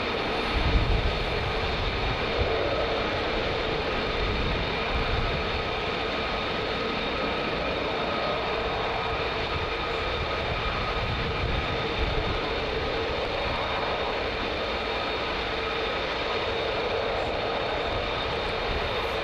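A Boeing C-17 military transport aircraft at RAF Lakenheath at night, its jet engines producing a loud, continuous roar that holds steady throughout, with no voices.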